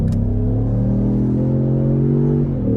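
A Ford Mustang EcoBoost accelerates in sport mode while merging onto an on-ramp, its engine giving a loud, close, steady rising drone that holds strong before easing slightly at the end.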